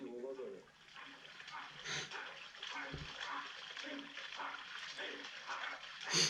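In Shaolin water-striking training, hands slap and splash water in an uneven series of wet hits, sitting under a voice talking over them.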